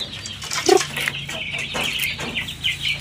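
Chickens cluck in short, irregular bursts at close range, with one louder squawk standing out over the steady flock chatter.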